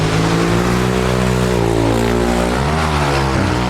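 A dirt bike engine over-revs hard and high, holding a strained, buzzing pitch that wavers and dips near the end, loud and close.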